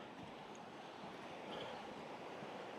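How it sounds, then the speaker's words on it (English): A waterfall rushes steadily on a muddy hill walk near Black Hill via the Crowden Horseshoe in Cheshire, a faint, distant, unbroken wash of falling water with no voices. "I can hear quite a nice waterfall."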